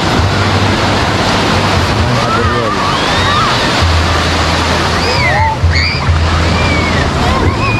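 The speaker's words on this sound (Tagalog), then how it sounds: "Malakas ang alon." Strong surf breaking steadily on a Pangasinan summer beach, a continuous loud wash of waves with faint voices of beachgoers mixed into the roar.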